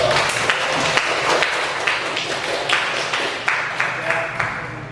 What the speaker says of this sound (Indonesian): tepuk tangan dulu buat Rido